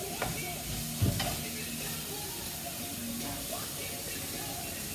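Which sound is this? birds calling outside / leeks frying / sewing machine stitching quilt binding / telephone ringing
leeks frying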